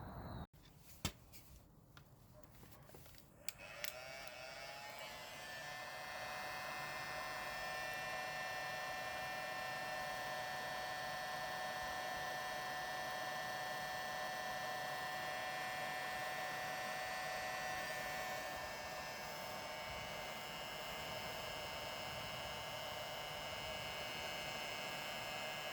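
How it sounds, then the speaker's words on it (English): A heat gun runs steadily after a few clicks, warming wax into a canvas rucksack with a continuous close-up blowing hiss and hum that holds for about twenty seconds. "then use the heat gun"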